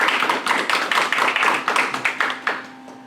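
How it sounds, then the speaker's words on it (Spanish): Short burst of applause for a doctor at the close of an education conference: a small group clapping in a fairly regular rhythm, close and distinct, fading out after about three seconds. "un aplauso al doctor, muchas gracias."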